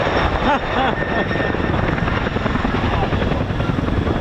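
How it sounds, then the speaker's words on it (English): A Chinook helicopter at the RAF Cosford Air Show 2025 fills the air with a loud, continuous rhythmic thudding of blade slap and turbine whine, with a voice briefly heard over it at the start. "The best noise in the world is that bit of blade slap."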